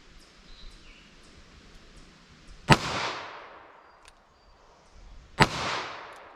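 Two sharp gunshots from a Ruger LCR revolver firing CCI Uppercut .22 Magnum rounds, several seconds apart, each a crisp crack with a short decaying ring, over faint outdoor background.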